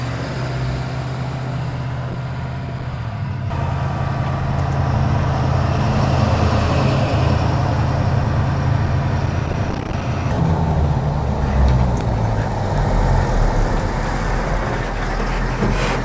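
An armored Ford F550 super truck drives along with a steady, loud low engine rumble and road roar throughout, swelling slightly as it accelerates, with no talking.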